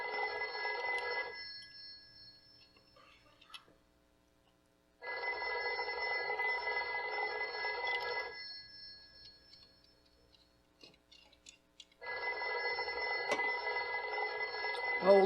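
An old-fashioned telephone bell rings close and loud in a live radio drama, sounding in three long ringing bursts with short silent gaps between them.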